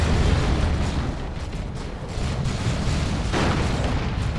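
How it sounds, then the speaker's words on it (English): Heavy turret shots and plasma explosions in a Dawn of War 2 battle, Imperial Guard against Chaos Space Marines, form a dense, continuous rumble of blasts with a sharper burst near the end and no talk. "Those heavy turret shots as well."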